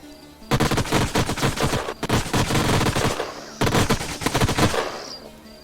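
Rapid automatic gunfire from units in the sci-fi strategy game Age of Wonders: Planetfall, two loud dense bursts of machine-gun-like rattling separated by a short pause, with no voices.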